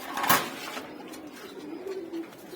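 Lal Gola (red-throated) pigeons coo softly and low in a loft, with a brief sharp knock near the start and faint, drawn-out murmuring tones afterward. Nobody speaks.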